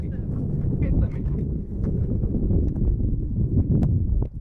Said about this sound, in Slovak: No teraz si ho zase privolal ten veter.